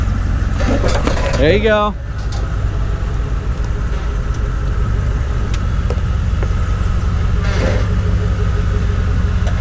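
Engine of a Toyota 100 Series Land Cruiser crawling slowly off-road in the Black Hills, a steady low rumble running throughout beneath people talking and calling out directions.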